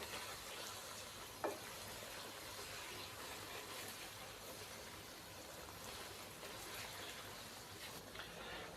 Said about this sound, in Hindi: अदरक लहसुन का पेस्ट और हरी मिर्चों का पेस्ट शामिल करने के बाद मैंने इसकी 2 मिनट अच्छे तरीके से भुनाई कर ली है